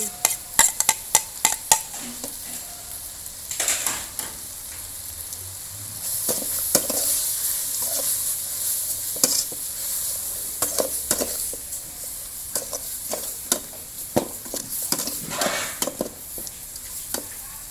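Shallots frying in hot oil in a pan for an Isan-style chicken curry with pickled bamboo shoots: a steady sizzle runs throughout, broken by repeated clattering scrapes of a utensil stirring against the pan, with no voices.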